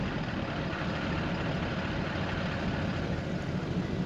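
Low, steady rumble of a truck engine idling at a traffic light on a remote Queensland highway, continuous and fairly close with no talking.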